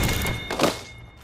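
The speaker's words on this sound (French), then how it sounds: "Je recharge mes boucliers." Shield recharge in the Apex Legends arena mode, a short thick electronic thunk with a whooshing swell and thin sustained tones, loud and close, no voice over it.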